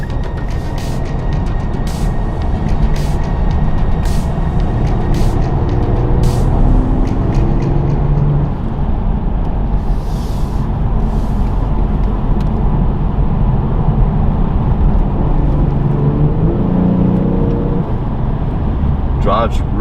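A Genesis G70 Twin Turbo drives along with a steady, full engine and road drone heard from inside the cabin, loud and continuous, while someone talks over it throughout.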